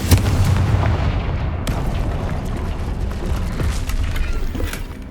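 Confringo blasting spell explosions in Hogwarts Legacy, a sharp loud boom at the start followed by a second blast and rumbling debris-like crackle, heavy low-end impacts continuing throughout.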